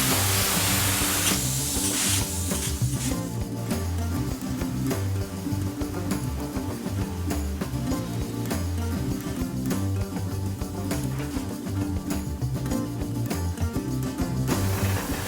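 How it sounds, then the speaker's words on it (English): Spray foam insulation being applied to 2x4 wall studs in a new residential home, a continuous close hiss of the spray gun with small pulses and pauses, no talking. "spraying a residential home right now in 2x4 studs"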